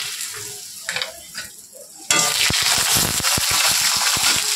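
Cashews and raisins dropped into hot ghee with whole garam masala and bay leaf for basanti pulao burst into a loud, steady sizzle with crackling pops after a quieter opening.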